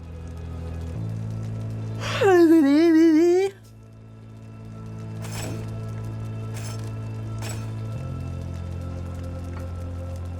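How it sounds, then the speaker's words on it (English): A person yawns once, a long, wavering, voiced groan lasting about a second, heard close up over a steady background hum. "1 second, I have another yawn."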